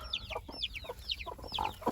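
A hen clucks repeatedly in short, quick bursts, close and fairly clear, with no talking.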